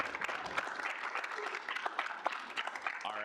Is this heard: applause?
yes